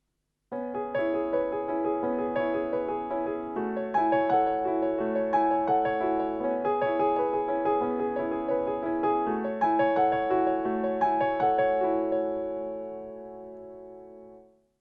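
A solo piano plays the A section of a piece, a steady, flowing melody over sustained chords, played close and clearly, then fades out as the final notes ring away.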